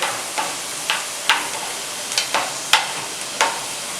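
Vegetables sauté in a covered pan, giving a steady close hiss of sizzling and frying, punctuated by sharp crackles and pops roughly every half second, with no talking.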